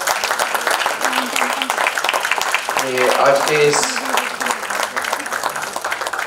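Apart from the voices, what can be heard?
loud audience applause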